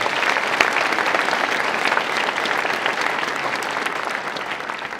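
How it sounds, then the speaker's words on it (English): Sustained applause from a commencement audience honoring students and graduates, a dense, even wash of many hands clapping throughout without letup. "Let's give them a big round of applause"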